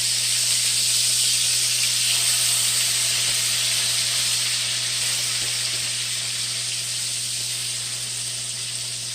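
Liver slices with a light flour dredge frying in a hot pan as they are flipped, giving a loud, steady sizzle and hiss that stays even throughout, with no voices over it.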